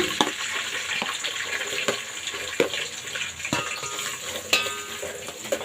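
Onions and cumin seeds frying in a pan, a continuous bright sizzle close by, broken by regular stirring knocks roughly every second.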